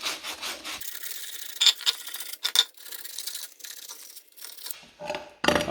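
Sandpaper rubs a ball joint part from a 1975 Corvette Stingray during restoration, giving short rasping strokes in irregular bursts separated by brief pauses, close and fairly quiet.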